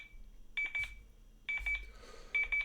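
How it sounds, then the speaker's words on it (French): Alarm tone from the IPA Android app, sounding in three short bursts of rapid, repeated high beeps separated by brief pauses, clear and fairly loud with no voices. "je vais avoir une alarme sonore"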